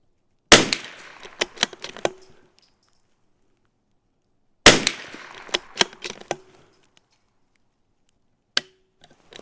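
Two sharp rifle shots from a CZ 457 crack loudly and close, each followed by a short clatter and decaying echo, with a third fainter click or shot near the end.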